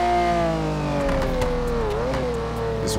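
A Lamborghini Aventador engine revs in GTA 5, a loud, sustained engine note rising and dipping in pitch as it accelerates.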